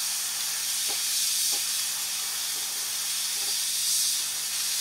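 An airbrush blows thick paint onto a B-24 scale model, giving a continuous close, even hiss of air with a few faint low taps underneath.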